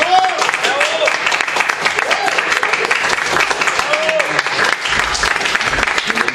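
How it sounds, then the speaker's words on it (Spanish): An audience at a live show in Spanish breaks into steady, loud applause welcoming a magician-like performer named Harry Mudini, with cheering voices and talk mixed into the dense clapping throughout. "Voy a pedir un aplauso, por favor, entonces, para Harry Mudini"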